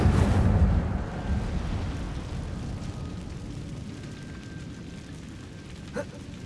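Incendio fire spell cast in the Hogwarts Legacy video game: a deep fiery whoosh and rumble that bursts loudly at first, then slowly fades into a low burning roar, with a small pop near the end.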